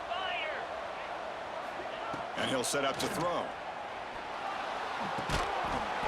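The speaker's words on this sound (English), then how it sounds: "here comes the crowd noise" Crowd noise in a college football video game, UNC versus Duke, a steady roaring stadium crowd that swells in the middle under a commentator's voice.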